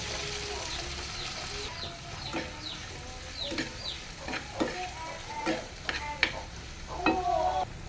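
Bitter gourd and chopped large prawns sizzle as they fry in a pan and are stirred. The steady frying noise is broken by repeated scraping strokes of the spatula, and a faint bird clucks somewhere in the background.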